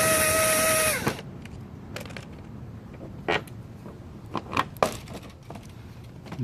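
Small 10mm bolts come off the air dam valance of a Ford F150 with a series of brief metallic clicks and clinks from the tool. A whining tone sounds at the start, then stops after the first second.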